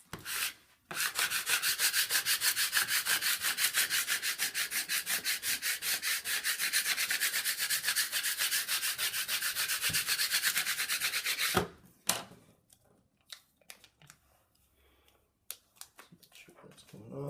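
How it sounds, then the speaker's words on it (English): A squeegee tool scrapes steadily across wall vinyl, making a continuous close rubbing sound for about eleven seconds before it stops abruptly, followed by scattered light handling noises. "Then we can take our squeegee tool as well."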